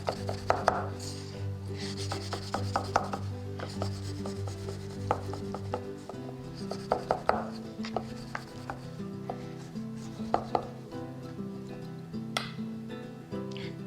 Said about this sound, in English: shake the pan back and forth corner to corner, and then to wiggle it side to side